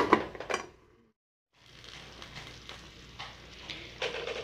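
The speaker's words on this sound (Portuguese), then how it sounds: "o franguinho ainda tá aqui cozinhando" Chicken stews in a covered pan, a soft low sizzle and bubbling that continues steadily after a couple of brief clattering knocks and a short silence.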